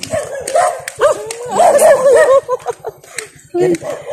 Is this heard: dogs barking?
yes